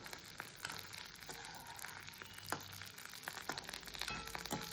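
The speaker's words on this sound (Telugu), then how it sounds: "ఇలా పోపు వేసుకోవాలి." Tempering spices crackle and sizzle in hot oil for a coconut chana dal curry, a soft, steady frying hiss dotted with small pops, heard close with no talking.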